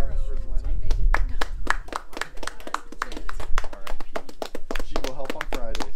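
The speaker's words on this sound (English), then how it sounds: "So everybody clap for Zeleny." A small film crew on a gas station shoot clapping for a departing crew member, a handful of close, distinct hand claps mixed with talking and laughter throughout.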